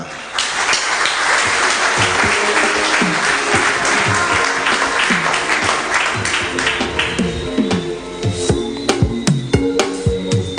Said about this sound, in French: un applaudissement pour Miss Laurie Martin